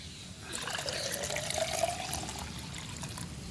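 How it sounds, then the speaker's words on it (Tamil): Water poured into a jar to dilute a homemade plant fertilizer, a steady close trickle and splash with a rising fill tone, continuous for a few seconds with no voices. "இதில் இந்த ஜார் ஃபுல்லாகவே தண்ணி ஊற்றிக்கலாம்."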